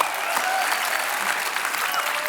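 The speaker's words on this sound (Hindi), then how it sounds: "जोरदार तालियां इनके लिए" Loud, sustained applause from a TV comedy show studio audience, dense clapping filling the whole moment without pause.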